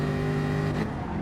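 Jaguar F-Type Group 4 race car in Gran Turismo Sport at Spa-Francorchamps, engine droning steadily as it accelerates from a standing start, with a continuous close engine hum and no talk.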